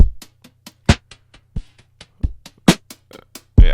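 Drum hits pitch-shifted lower with an audio plugin, a sparse pattern of deep, thumping kicks and snappy strikes ringing out cleanly in a dry mix, without any voice.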